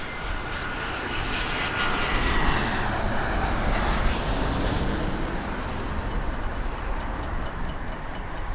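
A Boeing 737 departs Las Vegas Harry Reid International Airport, its jet engines a loud, sustained broadband roar that swells around the middle of the clip and holds steady, with no talk over it.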